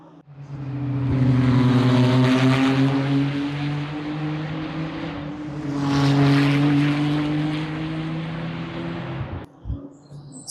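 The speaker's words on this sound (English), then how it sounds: "just watching these McLarens go past, they are impressive" McLaren GT3 race cars passing at Brands Hatch near Sheene Curve, two loud engine surges rising and fading as the cars go by, with a tonal engine drone carrying between them before cutting off abruptly.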